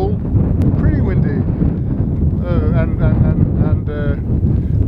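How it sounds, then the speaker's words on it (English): Strong wind in Iceland on the Snæfellsnes Peninsula, buffeting the microphone with a loud, constant roar while someone talks over it. "pretty windy"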